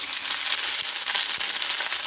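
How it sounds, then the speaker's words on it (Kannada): Cut okra frying in hot oil, a dense, steady, close sizzle and crackle with no pause and no voices. "ಇವಾಗ ನಾನು ಎಣ್ಣೆಲಿ ಹಾಕಿ ಫ್ರೈ ಮಾಡ್ಕೊಳ್ತೀನಿ."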